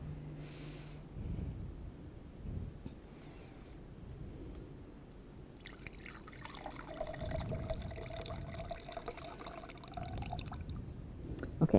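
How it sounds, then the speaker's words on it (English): Lemonade pours into a glass, a soft trickle that builds into a brighter, rising fill sound over several seconds, quiet and close, after some faint handling noises. "there's the lemonade. All right, so what you're going to do is pour that in the glass"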